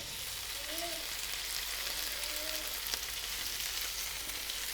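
Potatoes frying with golden garlic in oil, a continuous quiet sizzle with faint stirring and a couple of faint tonal squeaks.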